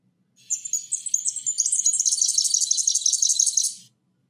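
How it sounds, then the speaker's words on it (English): A fairy wren, a small bird with a blue face, sings a rapid, high-pitched trilling series of chirps and twitters, continuous for about three seconds, clear and alone with no talking. "It's called a fairy wren."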